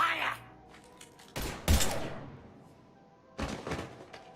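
Bursts of gunfire in the video game Mass Effect 3: two loud volleys of sharp shots about two seconds apart, each trailing off, with faint background sound between them.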